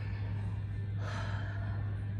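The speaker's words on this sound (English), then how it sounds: "let's breathe in" A single deep inhale drawn in about midway, rising as a soft airy rush over a steady low electrical hum, close and fairly quiet.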